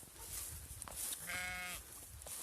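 A Leicester Longwool sheep on an open farm gives one clear, wavering bleat lasting about half a second, faint and set against steady outdoor background noise.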